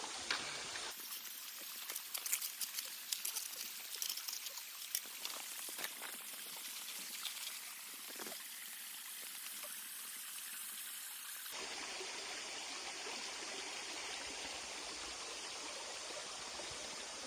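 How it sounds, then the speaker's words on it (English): A small stream in the New Zealand backcountry flows and splashes in a constant near rushing wash, with a louder burbling stretch first, then a smoother, steadier flow. "That's where the other river, wee stream goes up that way."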